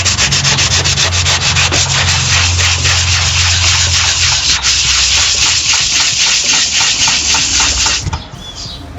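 Wood is sanded by hand with sandpaper on a flat block, a loud close rasping stroke repeated in a steady back-and-forth rhythm before stopping.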